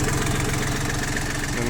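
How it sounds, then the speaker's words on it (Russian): A Yanmar FX22D tractor's three-cylinder diesel engine with a mechanical injection pump runs evenly at idle, a close, steady rhythmic chug filling the clip. "Трехцилиндровый двигатель дизельный"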